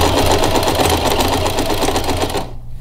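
A sewing machine stitches fabric flaps in a rapid, rhythmic close-up chatter that runs steadily for over two seconds, then stops abruptly.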